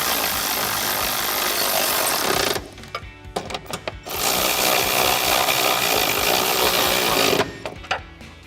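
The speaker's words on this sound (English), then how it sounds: "then we can take our 13mm socket to tighten that down." A bolt being driven with a 13mm socket on a power tool while fitting a side step to a 2022 Toyota 4Runner, two loud sustained buzzing runs separated by a short pause with clicks.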